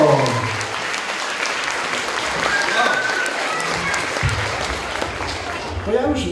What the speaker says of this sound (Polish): wtedy będziemy klaskać, tak się mówi